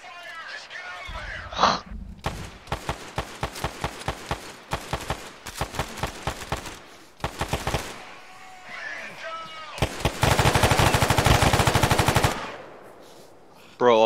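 Video game shootout with bursts of rapid automatic gunfire and single shots, loud and close, broken by brief pauses, with players talking over the action.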